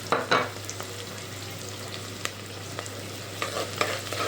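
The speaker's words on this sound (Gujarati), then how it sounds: "હવે નાખું લસણ ને આદું" Garlic and ginger frying in a pan for soybean biryani: a constant oily sizzle with a low hum beneath and a few sharp clinks and scrapes of a spoon stirring.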